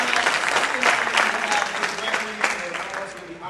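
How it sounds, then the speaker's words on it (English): An audience at a panel discussion applauds the panelists, a dense, steady wash of clapping filling the room from start to finish. "Give them a round of applause."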